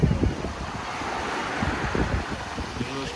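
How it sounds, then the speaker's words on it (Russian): Black Sea waves at Sochi in January under a light swell, a steady wash of surf with wind buffeting the microphone and no voices. "На море легкое волнение."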